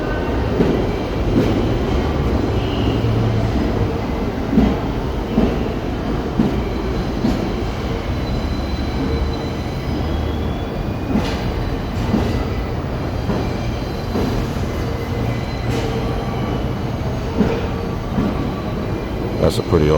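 Loud, steady rumble of subway trains in the echoing Brooklyn Bridge station in New York, with rattling wheels and occasional sharp squeals and clanks throughout.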